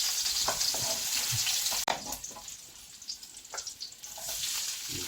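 Garlic sautés in a pan for a spaghetti with mussels dish, a faint hissing sizzle with soft crackles and a few light stirring clinks, no voices.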